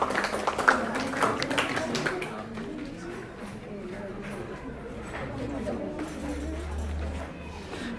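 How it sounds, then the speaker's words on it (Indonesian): Clapping from a classroom full of students applauding a student group after its presentation, brisk and dense for the first two seconds and then thinning out, with a voice talking throughout. "tepuk tangan dulu untuk kelompoknya Erna"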